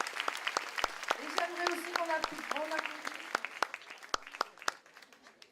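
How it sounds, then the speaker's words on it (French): Scattered, fairly close handclaps from an audience at a 30th anniversary celebration for a dance and fitness club, thinning out as a voice speaks over them. "Je vous demande de l'applaudir très très fort."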